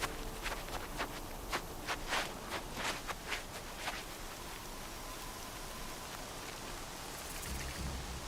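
Rain falling steadily in the video game Horizon Zero Dawn, a dense constant hiss with a run of sharp drop-like taps over the first few seconds, no voices.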